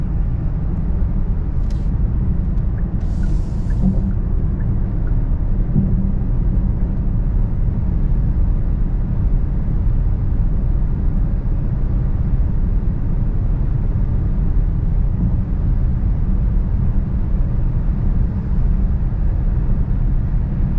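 A 2021 Genesis GV80 Prestige cruising at night, with steady low road and engine rumble filling the cabin throughout, a couple of faint brief clicks early on and no talking.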